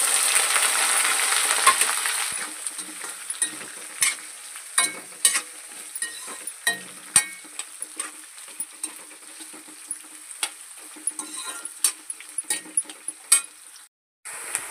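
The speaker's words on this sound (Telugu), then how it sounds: "పోపు కొంచెం ఉడికింది కదా, ఇప్పుడు ఉల్లిపాయలు అయితే వేస్తున్నాను" Onions sizzle steadily in hot oil for a spicy potato fry, a soft continuous frying hiss broken by sharp clinks of a spoon stirring against the pan. No one speaks.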